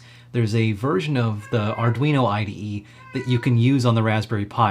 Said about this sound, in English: And you might hear my cat in the background.